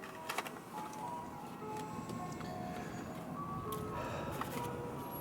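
An ice cream truck's jingle plays faintly at a distance as a thin melody over outdoor background noise, with a few sharp clicks near the start and no talking.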